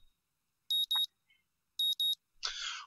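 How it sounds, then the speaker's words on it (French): An alarm clock goes off in the Katawa Shoujo visual novel, sounding two quick pairs of bright electronic beeps at a low level, followed by a brief burst of rustling noise. "Mon réveil se déclenche et je le maudis inutilement pendant un moment"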